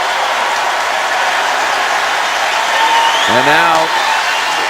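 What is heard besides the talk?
basketball arena crowd applauding players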